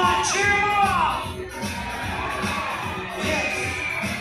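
Spectators cheer and shout in the grandstand at a rodeo at the Sydney Royal Easter Show, a loud, continuous crowd roar with whoops rising and falling across the stands.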